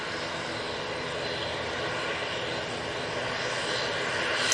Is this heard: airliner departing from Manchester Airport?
yes